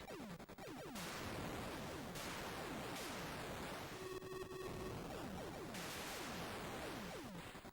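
Atari 8-bit game Laser Hawk, a horizontal shoot 'em up: harsh static-like explosion blasts repeat over and over, mixed with quick descending electronic zaps and a brief tone.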